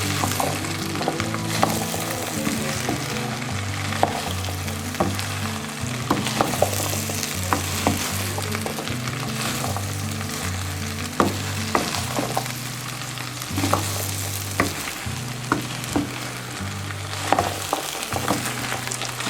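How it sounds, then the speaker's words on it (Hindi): Okra stir-fried in a pan on a stove gives a continuous loud sizzle with repeated sharp scrapes and clinks from stirring, all under a steady tonal backing of music. "इस तरह मिक्स करना, थोड़ी सी फ्राई करके"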